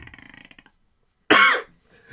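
A voice imitates a skeleton's random cough from a video game, giving a single sharp, loud cough burst after a short stretch of talk and a pause.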